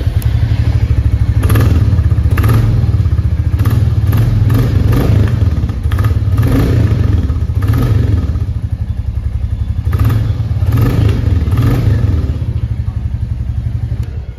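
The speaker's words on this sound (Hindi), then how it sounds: "कुछ इस तरीके का एग्जस्ट नोट आपको इस बाइक का सुनने को मिल जाता है" A 2024 Royal Enfield Classic 350 motorcycle idles close by, its single-cylinder exhaust thumping in a steady rhythm with occasional gentle revs swelling and falling back, no talking.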